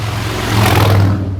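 A car passes on a nearby highway outside a mountain inn, a steady low engine-and-tire rumble that swells near the middle and fades off over about a second and a half.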